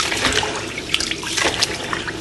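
Rice being rinsed by hand in a bowl of water for coconut rice, a steady close sloshing and swishing with small splashes and trickles and no talking.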